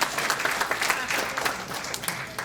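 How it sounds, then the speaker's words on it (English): An audience applauds at a Winter 2010 honors recognition ceremony in Fort Myers for the new Dean of Students, with steady, moderately distant clapping from a crowd. "I want to have a round of applause for Marcia and her new title as Dean of Students"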